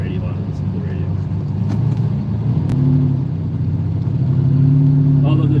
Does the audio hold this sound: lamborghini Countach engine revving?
yes